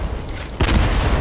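A mortar fires in a video game, with a sudden deep boom partway through that booms on and rumbles to the end.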